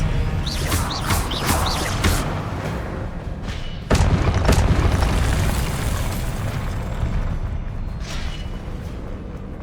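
Spell blasts in the Hogwarts Legacy video game erupt as booming explosions, several quick bursts early then a heavy crashing blast near the middle, followed by rumbling debris and a fading tail.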